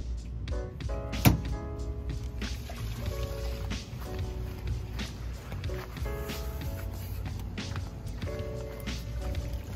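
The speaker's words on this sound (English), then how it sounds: "there's nothing better than seeing all your crap just drain out" An RV black tank dumps through a clear drain hose, steady gurgling rush of liquid with hollow thunks and sloshing, continuous and close throughout.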